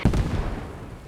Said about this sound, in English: Mortars on the hab again.